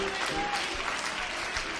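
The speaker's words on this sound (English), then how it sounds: "I'm not going to sit on my hands. I'm going to clap them." A church congregation claps together in a dense, steady burst of applause that fills the space, loud and continuous throughout, with a voice speaking faintly under it.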